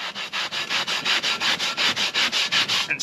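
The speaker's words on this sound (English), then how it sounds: "I got one of these scratchy pads here, so I'm gonna dunk that in the vinegar" Brisk, regular back-and-forth scrubbing of a rusty camp oven with a scratchy pad soaked in vinegar, about a dozen close, loud abrasive strokes in a steady rhythm with no talk.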